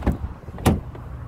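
Car door on a Renault Clio Dynamique opening, two sharp clunks about half a second apart with a fainter click after, close and fairly loud with no talking.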